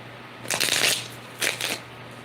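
Tarot cards being shuffled by hand in two quick riffling bursts, close and crisp against a quiet room with a low steady hum.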